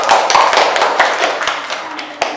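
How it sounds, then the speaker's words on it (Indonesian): A classroom group gives a short burst of applause for a student, with dense, fast hand clapping throughout that thins out near the end, close and lively. "Tepuk tangan buat Mbak Tia"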